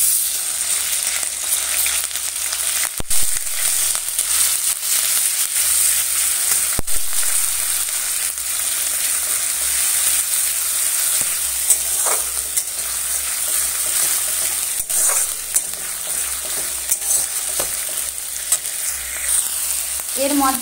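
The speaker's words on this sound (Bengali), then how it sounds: "তেল দিয়ে দিয়েছি, সরষের তেল দেখতেই পাচ্ছ" Onion paste fries in mustard oil for an egg curry with a continuous bright sizzle and crackle, broken by occasional stirring scrapes and clicks of the spoon.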